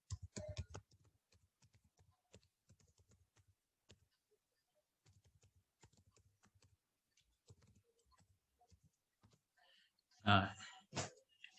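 Typing on a computer keyboard in a chat window, a steady run of light, quiet key clicks with short pauses, followed near the end by a louder burst of handling noise.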